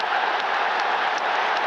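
Applause from a football crowd, a dense continuous wash of clapping, loud and steady throughout the short stretch.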